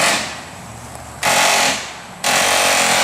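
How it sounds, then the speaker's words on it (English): Pneumatic air hammer driving cut rivets out of a bus panel, heard as two loud sustained bursts of rapid hammering separated by a quieter stretch of lower rattling, close and with no talk. "she's going along with an air hammer pushing"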